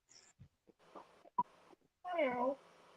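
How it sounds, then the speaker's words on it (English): A cat meows once, a drawn-out, wailing cry that is close and fairly loud, following scattered small knocks and brief speech at low level. "Here's the kitty cat."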